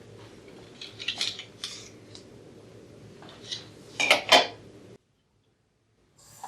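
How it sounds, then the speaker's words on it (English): Small plastic canister elbows from a Necta Opera Touch coffee machine are pulled out and handled, giving several sharp clicks and clattering knocks in bursts, the loudest pair near the end, followed by a brief silence. "Now you can remove the elbows of the canisters"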